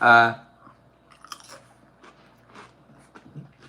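Crunchy nachos chewed close to the mic: a loud crunching bite at the start, then softer intermittent crunches and mouth sounds.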